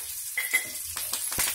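Spices such as coriander seeds, cumin and urad dal crackle as they drop into hot oil in a pan, tempering for a coriander-tomato chutney: a brief, soft sizzle with a few sharp ticks and pops, no talking.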